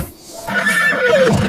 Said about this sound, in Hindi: यहीं पर श्री देवनारायण के घोड़े ने मुंह में से फरनाती की आवाज निकाली थी।